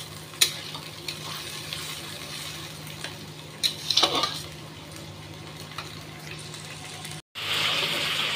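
Spice paste frying and being stirred in a pan for a vegetarian soybean curry, a soft continuous sizzle broken by occasional spoon clinks and scraping, with a brief cutout near the end.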